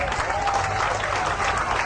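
Steady crowd applause at a Golkar-linked MKGR organisation event greets party chairman Aburizal Bakrie, the clapping sustained and moderately loud throughout with voices mixed in.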